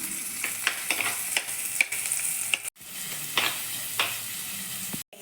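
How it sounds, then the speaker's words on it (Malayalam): Coconut oil sizzles and crackles steadily in a pan with onion, ginger, green chillies and curry leaves, with a few sharp spatters and stirring scrapes, no voices. "ചട്ടി വെച്ചിട്ട് അതിലേക്ക് വെളിച്ചെണ്ണ ഒഴിച്ച് അതിലേക്ക് ഉള്ളി, ഇഞ്ചിയും പച്ചമുളക്, വേപ്പില ഇട്ട് വഴറ്റണം"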